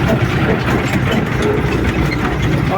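A YUMZ tractor's heavy engine drones loud and steady at close range while driving to disk a soybean field, with mechanical rattling over the low rumble.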